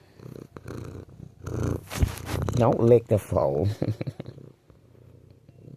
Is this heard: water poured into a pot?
no